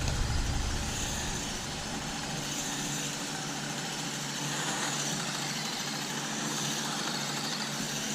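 A WPL D12 Copper Dragon Edition RC drift truck makes a continuous whirring electric-motor whine with broad noise as it drives and drifts, steady and fairly loud throughout.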